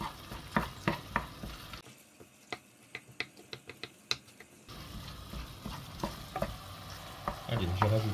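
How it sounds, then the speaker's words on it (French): Ground meat cooking in a pan for stuffed zucchini, a soft sizzle with a series of sharp clicks and taps from stirring, fairly quiet and without talk. "on enchaîne avec la viande hachée. Voilà, on va la faire cuire pareil, quelques minutes"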